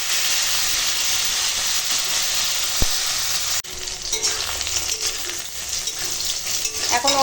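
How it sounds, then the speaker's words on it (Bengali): Elephant foot yam pieces fry in hot oil, giving a steady, dense sizzle that breaks off briefly midway and then returns rougher and crackling, close and loud with no talking. "এখন তেল গরম আছে ওই তেলেই ওল করা ভেজে নেবো"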